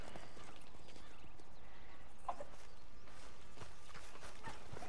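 Horse hooves clip-clopping in the video game Red Dead Redemption 2, a steady run of rhythmic hoofbeats under continuous game ambience at a moderate level, with a brief whinny partway through.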